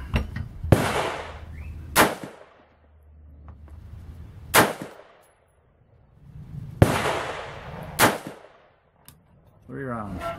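Three rifle shots from an M16 A1.5 with a fixed rear sight on a range, each a sharp, loud crack spaced a couple of seconds apart with a ringing tail, plus a few softer clanks and some quiet voices between shots.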